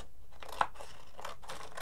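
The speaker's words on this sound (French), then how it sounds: "ça je vais le découper parce que sinon on ne verra pas la différence" Scissors or hands cutting through packaging from a small AliExpress parcel, a short crinkly, crunching stretch with a couple of snips, close by, no talking.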